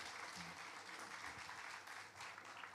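A church congregation at Sunday worship claps together after a prayer, giving a steady, moderately distant round of applause that holds evenly throughout.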